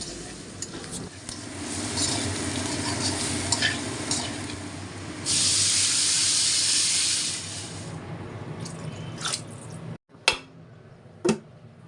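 Potatoes fry in a pan as turmeric and chili powder go in, a steady close sizzle with stirring and scraping, a brighter hiss burst midway, then a brief break and a few sharp pan knocks at the end.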